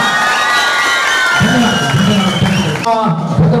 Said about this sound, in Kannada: ನಮ್ಮ ಸಹೋದರಿಗಳು ದೊಡ್ಡ ಚಪ್ಪಾಳೆ